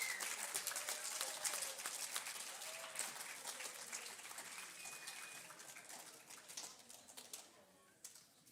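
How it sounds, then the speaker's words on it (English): Applause at a junior high academic awards ceremony for the 8th grade AB honor roll, a fairly faint, scattered patter of clapping that thins gradually over several seconds, with a few sharper claps near the end. "One last round of applause for the AB honor roll for the 8th grade class."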